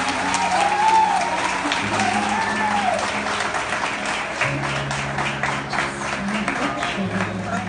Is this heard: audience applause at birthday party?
yes